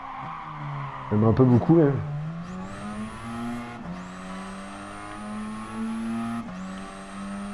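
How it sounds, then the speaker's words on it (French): A race car in Gran Turismo Sport slides on its tires with a brief squealing burst, then its engine drones and shifts through gears. Someone talks over the sound. "Parce qu'elle glisse un peu la bagnole."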